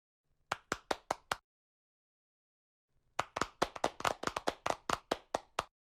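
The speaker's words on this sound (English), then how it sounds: "please give him a warm round of applause" Audience applause greeting a speaker called to the stage at a French-German-Japanese symposium on human-centric artificial intelligence, heard as sparse distinct hand claps, a short burst, a pause, then a denser run of clapping.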